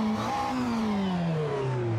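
An open-wheel race car in the racing simulator Assetto Corsa, driving the Pont des Abarines hill climb, revs its engine in a loud, close drone that rises and then settles through gear changes, with no voices.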